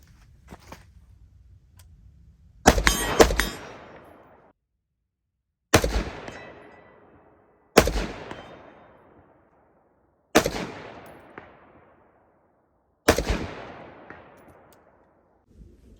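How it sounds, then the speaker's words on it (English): Five loud rifle shots from a rifle fitted with a Nightforce NXS 1-4 scope, fired at targets from 50 to about 250 yards, each a sharp crack with a long ringing decay, spaced a few seconds apart, no voices. "Quick demo of the Night Force NXS 1-4. I'm going to shoot on holds at 50, about 100, and then about 250."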